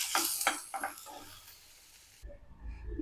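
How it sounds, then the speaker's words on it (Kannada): Paneer fries in a pan with a soft sizzle and several scraping, stirring strokes close by, then the sound cuts off abruptly into a quieter low rumble. "ಇವಾಗ ಇದೇ ಪ್ಯಾನಲ್ಲಿ ಪನ್ನೀರು ಫ್ರೈ ಮಾಡ್ಕೊಂಬಿಡೋಣ"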